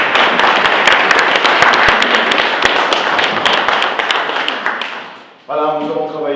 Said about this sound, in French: Nous applaudissements pour eux.